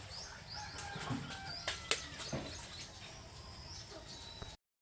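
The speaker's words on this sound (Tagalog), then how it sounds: "Maririnig mo lang dyan yung ingay ng ibon." Faint bird chirps and short calls scattered over a soft outdoor background by the sea in the morning, with a few brief flutters, quiet and distant.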